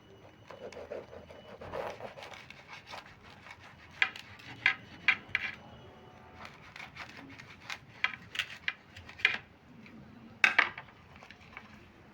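Knife cutting through an egg mughlai paratha on a plate, with scattered sharp clinks and scrapes of metal on the plate and soft rubbing sounds in between, close and fairly quiet.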